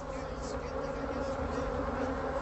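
Honeybees buzz steadily at their hive, a continuous dense drone with no pauses, fairly quiet and heard alone without any talking.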